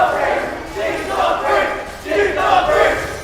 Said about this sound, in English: we hear more chanting from the crowd as they are loving Jeek right now